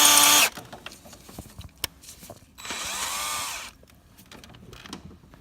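A power tool works on a snapped BMW glow plug in a garage, giving two loud bursts of drilling separated by quiet clicks and handling noises, the second burst lasting about a second.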